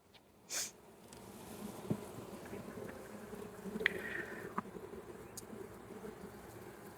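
Honey bees hum in a steady low drone around an overwintered hive, with a few sharper individual buzzes passing close by and a brief thump near the start.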